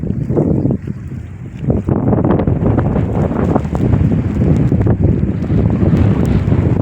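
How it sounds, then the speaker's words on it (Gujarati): Loud, gusty wind roars and buffets the microphone continuously during a rainstorm in a village, with rumbling low-end bursts and no speech. "પવન બહુ છે, વરસાદ પાછો ચાલુ થઈ ગયો છે."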